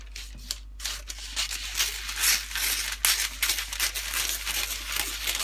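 Scissors cut through a sheet of greaseproof baking paper in soft, irregular snips and crinkles, with quiet rustling handling in between, close by and fairly faint.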